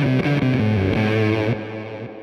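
Electric guitar through a Zipper Fuzz pedal with the gain fully up, producing a dense, saturated fuzz across a short run of sustained notes before the sound drops off and tapers away.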